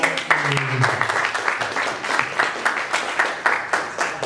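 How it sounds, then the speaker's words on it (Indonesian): Applause breaks out for two candidates at a village youth organization leadership debate, a moderately loud patter of clapping with a brief voice at the start, continuing steadily to the end. "Kita kasih tepuk tangan untuk kedua"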